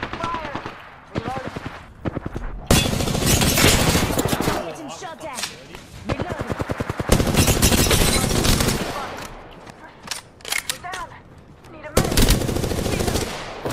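Gunfire from the video game Apex Legends comes in loud bursts of rapid automatic fire, several sustained volleys with short gaps between them, while players talk over the action.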